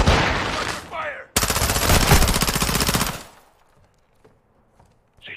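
Gunfire in the video game Modern Warfare 2: a short burst, then a sustained loud automatic volley of rapid shots for about two seconds, fading to quiet room sounds and a faint final crack.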